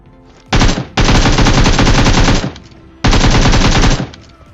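Automatic gunfire in the mobile battle-royale game PUBG Mobile (BGMI) plays as two long, loud sustained bursts of rapid shots separated by a short pause, up close and without talk.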